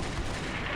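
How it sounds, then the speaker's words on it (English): Artillery fire and gunfire in the Combat Mission: Beyond Overlord war game, a dense, continuous roar of blasts and shots filling the whole moment without any speech. "Artillery is definitely having its effect, and the tanks have now joined in blasting the Germans."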